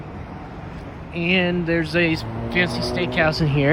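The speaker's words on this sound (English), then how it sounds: "Sorry for the road traffic. Obviously, we are downtown." Downtown road traffic in Lexington, a continuous rumble of passing cars, with someone talking over it at close range for most of the moment.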